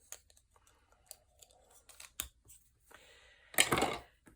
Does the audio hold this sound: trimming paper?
yes